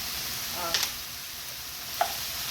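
Garlic sizzles in a frying pan with a steady soft hiss, broken by a couple of sharp clicks from stirring, and no voice over it.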